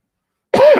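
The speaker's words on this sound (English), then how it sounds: "I apologize for that coughing" One short, sharp cough bursts out close by after a moment of silence, ending with a slight throaty rasp.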